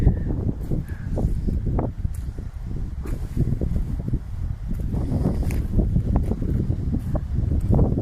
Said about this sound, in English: But as you can see from the old windsock, it's a little bit blowy.